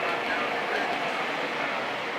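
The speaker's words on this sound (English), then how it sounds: "Trains are running all over the layout." Lionel model trains run on a large club layout, giving a steady, moderate rolling clatter of small wheels on track with a faint hum throughout.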